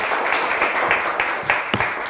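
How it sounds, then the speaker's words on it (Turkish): Studio audience on a Turkish word game show breaks into applause, a steady wash of clapping with a few sharper individual claps standing out near the end. "Varmış ki alkışlıyorlar"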